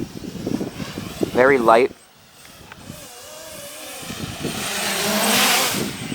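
A JJRC X1 Shuttle drone in flight gives a thin motor whine that swells and rises through the second half, while someone talks briefly over the start.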